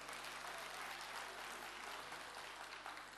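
Steady applause from the audience at a Bingöl community night, dense continuous clapping filling the whole stretch at moderate distance, with no voices standing out.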